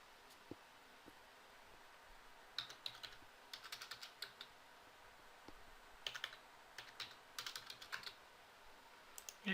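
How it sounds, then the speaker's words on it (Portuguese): Computer keyboard keys are tapped in faint, irregular bursts of quick clicks while coordinates are entered into ArcGIS mapping software, with a quiet room hiss underneath and no talking. "Então você vai lá e digita."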